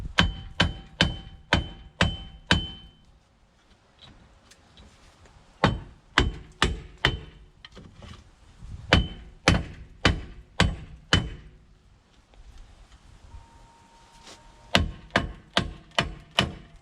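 Repeated hard hammer blows on the rear wheel hub of a 1997–2001 Honda CR-V, struck in quick rhythmic volleys of about five to seven hits with short pauses between groups, loud, close and ringing, with no talk.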